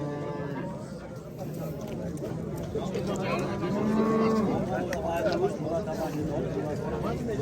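A cow moos at the Olmaliq livestock market, a drawn-out low call near the middle rising above a busy bed of nearby voices and crowd noise.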